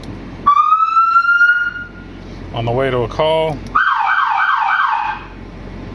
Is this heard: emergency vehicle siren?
yes